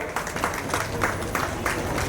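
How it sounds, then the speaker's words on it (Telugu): Applause from an audience at a women's felicitation ceremony held by an RTC management, steady crowd clapping filling the short stretch with regular swells, no voices standing out. "చప్పట్లు కొట్టండి"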